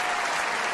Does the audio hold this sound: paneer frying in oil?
no